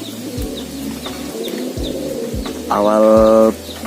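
High-flying pigeons coo in soft repeated phrases, joined near the end by a louder, harmonic call lasting under a second, with faint thumps underneath.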